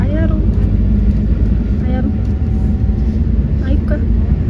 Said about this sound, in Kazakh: Автобусқа міндік.